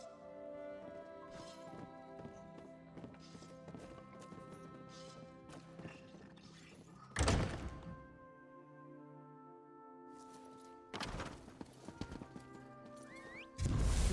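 Horse hooves clip-clopping in The Elder Scrolls Online, with trotting steps under game music and a few loud bursts of louder galloping or impact noise near the middle and end.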